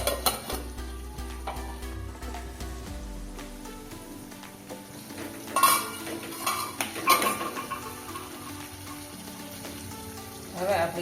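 Whole onions cooking in a pan for a winter onion sabzi, with a steady close sizzle under scattered clinks and scrapes of utensils against cookware, occasional louder clatters, no voices.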